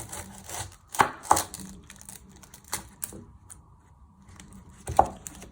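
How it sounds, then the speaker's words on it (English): A kitchen knife chopping the ends off an onion on a board, a few separate crisp knocks spaced apart against quiet background. "First step to do is to chop your ends off your onion."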